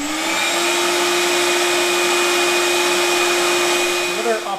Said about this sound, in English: Just unloop the hose and vacuum away.